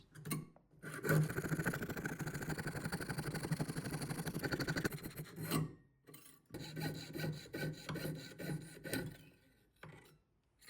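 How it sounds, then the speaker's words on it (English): Steady rasping strokes of a fine jeweler's saw cutting a shape from silver sheet, a long continuous run, a brief pause, then another stretch of rhythmic sawing, close up. "we're drawing the shape and sawing that out."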